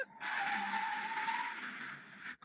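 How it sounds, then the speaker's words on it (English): An Audi makes an emergency stop from 160 km/h on a test strip, a sustained tire skid screeching for about two seconds at moderate distance before cutting off abruptly. "Now we can have a brake test from 160 kilometres an hour."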